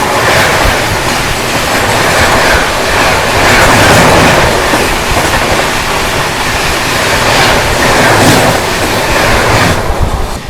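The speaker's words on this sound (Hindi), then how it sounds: "दोस्तों सामने से आ रही है new Delhi Sogaria intercity express." The New Delhi Sogaria Intercity Express passes on the next track, a loud, steady rushing roar with rattling wheel clatter throughout, close by and with no voices.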